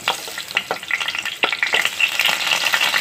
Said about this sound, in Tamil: கொஞ்சம் கொஞ்சமாக சேர்த்து ஃப்ரை பண்ணி எடுத்துக்கலாம்